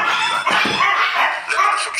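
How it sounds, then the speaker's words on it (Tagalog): Several dogs bark and yip in a continuous overlapping clamour. The barking is loud and fairly close, and it stays busy from start to end. "Ay, ito mga aso."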